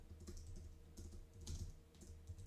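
Quiet close typing of code on a computer keyboard, soft irregular bursts of keystrokes with brief pauses in between and no voice.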